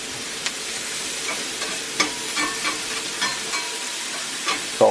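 Mushrooms sauté in a cast iron pan with a steady close sizzle, broken by occasional stirring scrapes and small pops.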